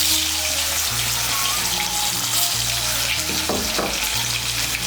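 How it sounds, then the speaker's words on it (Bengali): Boiled potato pieces frying in a pan of oil, a steady close crackling sizzle running throughout with faint clinks, no voices. "এই তেলের মধ্যে আলুগুলো ভেজে নেব।"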